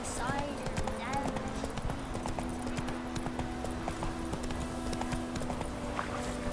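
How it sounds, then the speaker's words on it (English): Hoofbeats of the horse Roach in The Witcher 3, a steady rapid clip-clop rhythm running throughout over game music and ambient sound, with a voice speaking over it. "Run, Roach"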